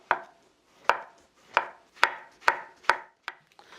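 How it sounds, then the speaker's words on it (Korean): A knife thinly slices shiitake mushrooms on a cutting board for pizza toppings, giving seven or eight crisp, close chops at a steady rhythm with nothing else heard. "표고버섯은요 아주 최대로 얇게 쓸 거예요."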